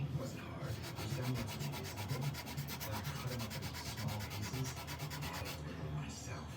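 A fret eraser rubs back and forth over the frets of a guitar neck being refretted, making a fast, even run of close, scratchy strokes that stop just before the end.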